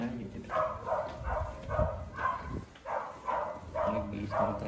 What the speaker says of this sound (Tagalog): naririnig nyo na, may mga aso